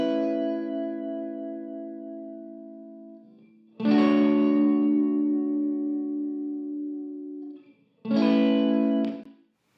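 A music mix of strings and guitar, collapsed to mono, plays a sustained chord that fades, then two more bright strummed chords ring out with a wash of reverb and no talking over them.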